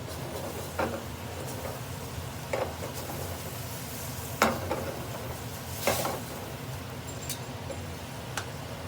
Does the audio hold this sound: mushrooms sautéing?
yes